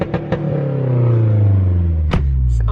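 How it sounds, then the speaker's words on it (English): A Mazdaspeed car exhaust running through an aftermarket downpipe gives a deep, loud, close rumble that rises through a rev with a couple of sharp pops along the way. "listen to this downpipe"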